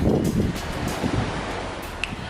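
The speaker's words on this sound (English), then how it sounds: "it was the sounds of the oceans for me" Steady ocean surf washing continuously outside a resort room with an ocean view in Jamaica, a broad, even wash of breaking waves mixed with wind noise, unbroken and moderately loud.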